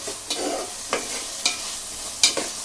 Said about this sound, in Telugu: ఇంక ఇలా వేపుకుంటూ ఉండాలి, ఇలా కలుపుకుంటూ ఉండాలి.